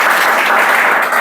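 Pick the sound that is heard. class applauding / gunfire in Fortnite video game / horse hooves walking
class applauding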